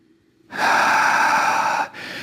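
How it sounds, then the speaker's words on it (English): A long, forceful exhale through the mouth during an ankle and foot mobility exercise, close and loud, lasting over a second and followed by a softer second breath. "I'm going to exhale on the way down."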